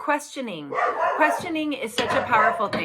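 A small dog barks and yips excitedly close to the microphone, mixed under steady speech that carries on throughout.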